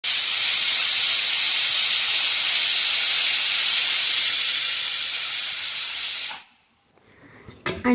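A pressure cooker on a kitchen stove releasing steam, a loud, steady, close hiss that runs unbroken for several seconds, then stops sharply and leaves faint clatter.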